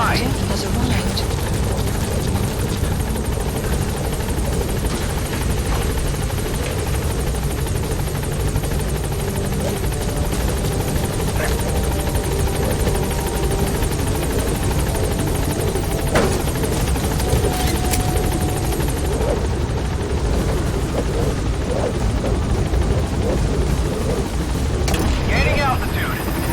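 The Pequod helicopter landing in the video game Metal Gear Solid V, a loud continuous rotor drone close by that runs steadily throughout, with radio voices speaking over it.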